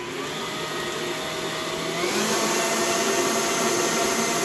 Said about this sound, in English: So I'm just going to get these ones started in the mixer.